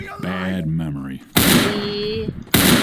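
Rapid-fire gun in the Roblox game Ray's Mod, heard as two loud bursts of fast shooting, each about a second long, following a stretch of talking.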